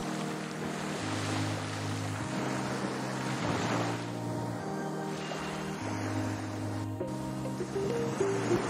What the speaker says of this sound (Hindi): समुद्र की लगातार विशाल लहरें आगे की तरफ बढ़ने का प्रयास करती